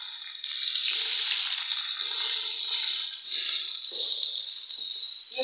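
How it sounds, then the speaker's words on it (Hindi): Onions sizzle steadily in a hot pan with okra, a continuous close frying hiss with soft stirring scrapes throughout. "अब हम प्याज डालेंगे।"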